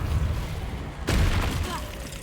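The Depulso spell is cast in Hogwarts Legacy, a single deep, booming burst about midway that follows a rumbling low background and fades with a brief swirling tail.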